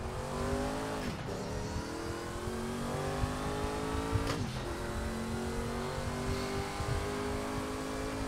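Race car in the sim racing game Assetto Corsa, its engine droning loud and steady with two quick shifts where the revs dip and climb again, no voices over it.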